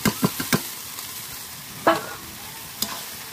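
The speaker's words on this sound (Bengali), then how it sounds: "জল দিয়ে কষিয়ে নিচ্ছি" Masala, potato and jackfruit being stirred and sautéed in a pan with a splash of water, a few scraping strokes close up, then a pause and another single scrape, no talking.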